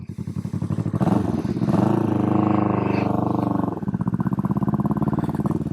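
A Honda CB450 motorcycle rides off around a neighborhood, its engine a loud close throbbing that rises as it revs and pulls away, then drops back to a steady chugging putter.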